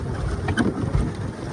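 Boat ride on water, a continuous rushing wash of water and wind buffeting the microphone, with a faint brief tone midway and no clear talking.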